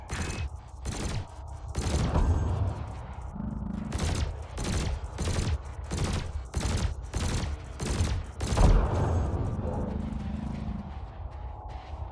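Spaceship cannon and laser fire in Elite Dangerous: a rapid, regular series of loud close shots, about two per second, sustained across the whole stretch with one heavier thump near the end.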